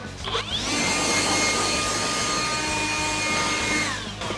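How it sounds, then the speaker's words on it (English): A blower clearing wood chips out of a Dewalt DW734 planer, a loud steady whine that spools up, holds for several seconds, then winds down, close by with no talk. "Take a blower."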